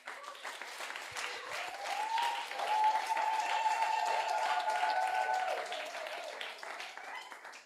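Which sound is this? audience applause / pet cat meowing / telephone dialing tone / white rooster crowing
audience applause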